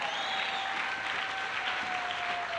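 A church congregation claps in a steady, dense wash of applause, loud and continuous throughout, with a faint sustained tone beneath.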